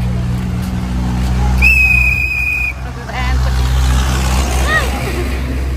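A whistle gives a single sustained shrill blast during a village wedding, loud over a low engine rumble and background chatter, followed by fainter wavering whistle chirps.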